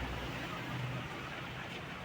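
Steady broadband road traffic noise on the road from Gumaca, Quezon toward Manila, a continuous low rumble of vehicles with no individual pass-bys standing out and no talk.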